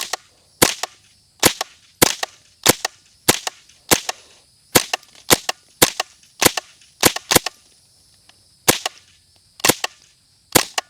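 Repeated sharp gunshots ring out while firing into a 2x4 board outdoors in Florida, seventeen loud cracks at a fairly even pace of about one every half second to a second, with no talking.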